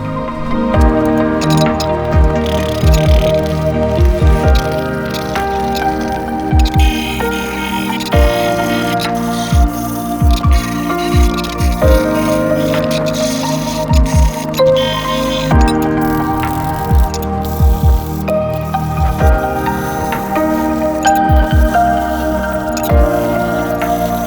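A thin metal grill pan from a Broil King Keg grill is scrubbed hard. A loud, close scraping and squishing rubs on continuously, with repeated rhythmic strokes and brief ticking knocks running through.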